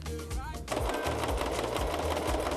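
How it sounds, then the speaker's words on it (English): A sewing machine runs steadily, stitching along the bottom hem of a t-shirt, its rapid mechanical whir close and continuous, with speech at the start. "Finally, run your sewing machine from the bottom edge of your t-shirt from one end to the other."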